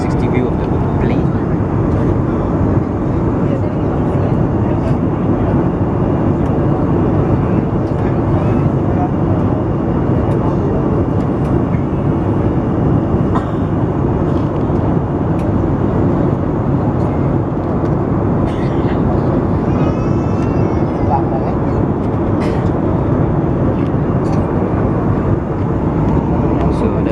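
A small passenger airplane cruises on a flight to Kuching, Sarawak, its cabin filled with a loud, steady engine drone and airflow roar that never lets up, with voices faintly murmuring underneath.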